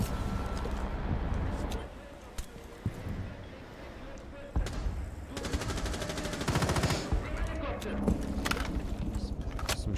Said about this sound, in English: Some shots being traded